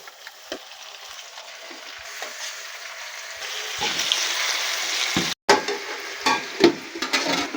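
Chicken pieces fry in hot oil for a chicken curry, giving a continuous crackling sizzle that grows louder over several seconds, broken by stirring scrapes and clatter near the end, with no talk.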